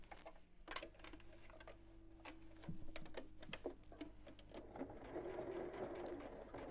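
A sewing machine runs faint and close in short stitching bursts with small clicks, sewing straight across an evening bag.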